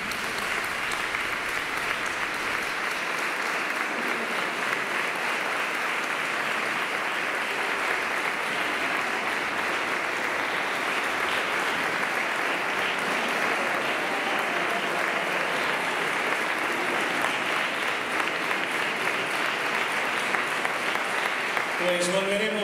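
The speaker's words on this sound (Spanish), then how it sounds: "lo único que quiero pedir yo es para ellos es un aplauso" Applause from the audience at a gala in Ronda presenting the event posters, a broad sustained wash of clapping running steadily for over twenty seconds with no break.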